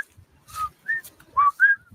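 Someone whistles a two-note chirp, low then rising, repeated a couple of times in short bursts, close and clear, mimicking the call of the Puerto Rican coquí frog.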